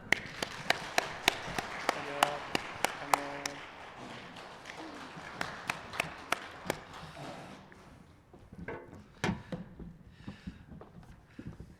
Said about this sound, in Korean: 박수하시기 바랍니다